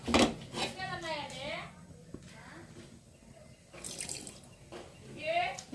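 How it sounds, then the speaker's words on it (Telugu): Water poured lightly into a heated kadai on a gas stove before adding okra: a short splashing, sizzling pour near the start, with a second burst later, under talking throughout. "లైట్గా వాటర్ పోసుకోవాలన్నమాట వాటర్ పోసుకొని బెండకాయ వేసుకొని"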